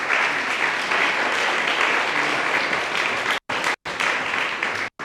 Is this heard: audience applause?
yes